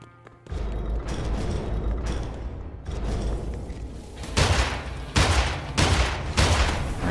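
Gunfire in the shooter game Immortal Redneck: a series of loud, punchy shots with sharp attacks, spaced roughly every half second to second and growing heavier toward the end, layered over a rumbling game backdrop with no voice.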